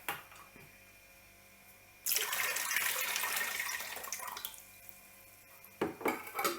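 Hot water poured out of glass jars packed with small cucumbers, a sudden loud splashing gush that trails off into dribbles, followed by a few clinks of glass.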